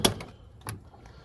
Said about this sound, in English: Let me unlock the doors